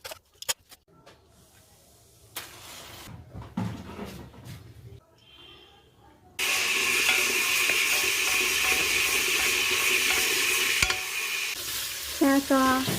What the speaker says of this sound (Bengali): ছন শব্দে ফোড়ন দেওয়া